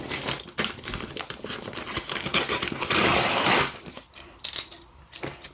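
Paper wrapping on an old-fashioned parcel is torn and crumpled open up close, a loud continuous crinkling and ripping with sharp bursts, easing into scattered rustles near the end.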